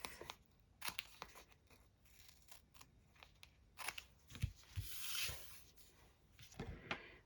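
Paper corners are trimmed off during a folding and paper-crafting job, producing a series of sharp, close snips mixed with light paper rustles and handling clicks, quiet and uneven in rhythm, with no talking.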